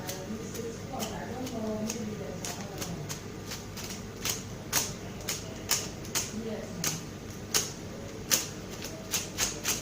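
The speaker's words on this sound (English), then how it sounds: "now these paper stones, I have to use scissors to take them off gradually" Sharp, regular snips of scissors cutting off paper stones repeat over a busy background murmur, the clicks getting crisper and more evenly spaced as the cutting goes on.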